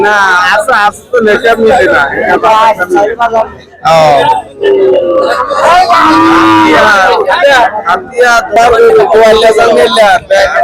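Cattle moo loudly and repeatedly amid a busy crowd at a cattle and buffalo market in Hatiya, Noakhali, with people talking and chattering all around in a noisy outdoor gathering.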